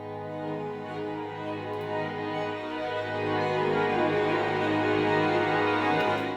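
Sustained orchestral strings swell slowly in a dense, dark chord, growing gradually louder with no voices.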